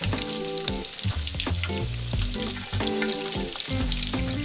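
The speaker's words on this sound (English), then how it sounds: "You're gonna want to deep fry them for 3 to 6 minutes or until they're solid." Kuli kuli peanut balls deep fry in hot oil, giving a loud, close, dense bubbling sizzle that runs steadily throughout, layered with tonal music and no speech.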